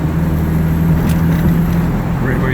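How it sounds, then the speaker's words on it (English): A 1969 Volkswagen Karmann Ghia driving and braking on a street, its steady low engine drone and road rumble filling the cabin at close range, with no distinct brake squeal standing out. "I'm applying the brakes, and the car doesn't seem to be darting to one side or another."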